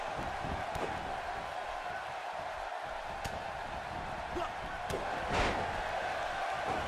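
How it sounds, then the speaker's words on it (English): A large indoor WWE wrestling arena crowd in Auckland roars steadily throughout, a dense wash of cheering and shouting with a few sharp impacts and a swell near the end. "Would you listen to this crowd?"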